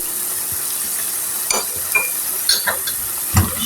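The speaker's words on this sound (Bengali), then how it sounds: "এই পেঁয়াজ সবগুলি আমি ভালো করে একটু কষায় নিব" Onions sautéing in a pan with salt and ground spices, a low steady sizzle under a few scrapes and clinks of a spoon stirring against the pan.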